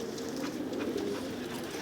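Pigeons cooing at a rooftop loft, a low, soft murmur of coos over a faint steady background hum, brief and fairly quiet with no voices.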